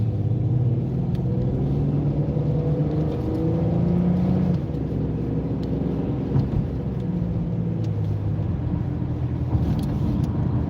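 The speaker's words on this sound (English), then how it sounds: "we're idling at about 850 RPMs" A car engine idles steadily at about 850 RPM during a driving lesson in an industrial area, a continuous low rumble and hum holding level throughout with no talk over it.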